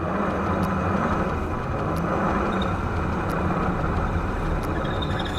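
A 2019 Honda Pilot or Toyota Highlander Hybrid AWD SUV on a slip-test rig drones steadily under light throttle, a dense, constant rumble with no talk.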